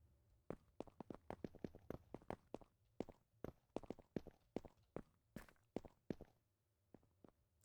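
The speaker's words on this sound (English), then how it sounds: "I'm hearing footsteps and it's freaking me out." Footsteps in the video game Minecraft, a steady run of crisp, evenly spaced steps that carry on for several seconds, then thin out and stop near the end, with no talking over them.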